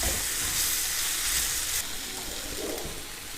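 Chana dal and poppy seeds roast in a pan over a medium flame, giving a steady close sizzle and crackle with soft stirring scrapes throughout.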